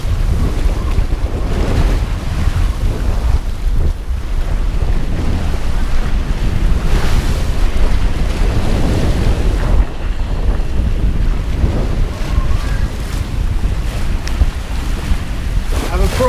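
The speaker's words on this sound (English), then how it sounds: "Really, the waves are pushing us the right way." Loud wind buffets the microphone as a sailboat crosses the North Sea in winter, with waves rushing and sloshing against the hull in a constant, heavy roar throughout.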